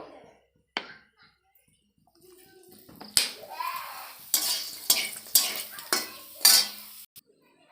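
Papad frying in a pan with light refined oil: soft sizzling crackle, then a series of sharp, loud bursts of frying noise, close by, with no talking.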